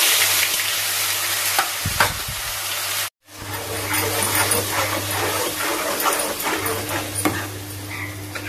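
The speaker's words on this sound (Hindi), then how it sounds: "केवल जीरा राई डाल के मैं इसको छौंक दूंगी।" Loud, steady sizzling of cumin and mustard seeds frying in hot oil, close up, with a short break in the middle and some stirring clatter.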